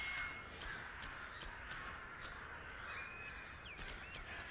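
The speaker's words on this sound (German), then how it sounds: "hier höre ich doch die Krähen" Crows cawing in the video game Black Myth Wukong, several scattered caws rising over a constant outdoor ambient bed, moderately distant with no talking.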